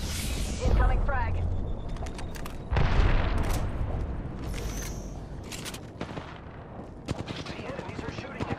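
A frag grenade blast in a battle-royale shooter game, with a loud deep boom near the start followed by rattling gunfire and scattered shots, mixed with in-game voice lines and effects.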